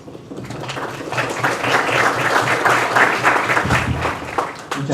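Audience at a university law panel breaks into sustained applause, a dense wash of clapping that holds steady for several seconds and swells slightly toward the end.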